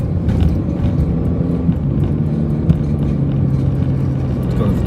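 Car driving fast along a hilly road, a steady interior engine and road rumble with a low droning hum, continuous and moderately loud.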